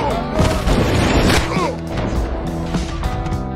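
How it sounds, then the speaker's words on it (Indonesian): A rifle fires in a sniper film: a sharp, booming shot cracks out early amid a busy soundtrack with music and other impacts layered around it. "tiba-tiba terdengar suara senapan menembakkan satu peluru yang mengenai pasukan CIA"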